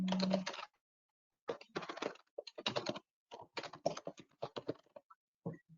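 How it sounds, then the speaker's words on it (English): Bursts of rapid key clicks on a computer keyboard, close and moderately loud, arrive in several uneven runs broken by short pauses as someone types in an entry. "let me see if I can type it in"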